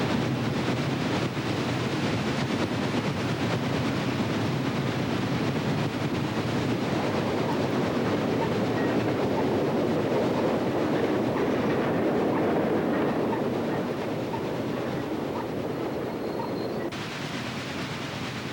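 Chesapeake and Ohio steam locomotive 2331 runs westbound on an extra in 1951 at Vinetta, Virginia, a steady loud rumbling roar of the passing train with rail clatter, continuous throughout with no voices.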